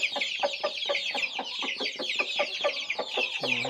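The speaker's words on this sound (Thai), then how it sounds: "เขาก็จะกุ๊กกักเรียกตัวเมียฮะให้มากินกับเขา" A rooster clucks in quick, repeated bursts close by, calling hens to food, a steady run of short calls with a brief low crow-like note near the end.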